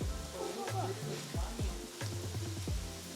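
Food sizzles quietly in a pan for a family lunch while it is turned over, a soft steady frying hiss broken by several squeaky spatula scrapes in quick succession.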